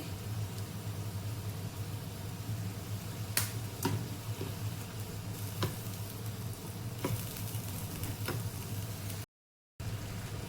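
Momo filling with pizza mix cooks in a pan, giving a steady sizzle with a low hum underneath and a few sharp spatula clicks or taps scattered through, plus a short dropout near the end.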